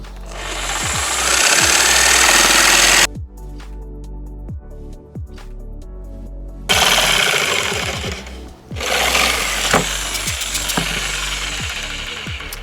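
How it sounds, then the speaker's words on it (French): A jigsaw buzzes loudly through plywood, with rapid reciprocating blade chatter. It cuts out for a few seconds, restarts, and runs steadily to the end. "Je passe vraiment ma lame de scie sauteuse à l'extérieur du trait pour ne pas du tout entamer"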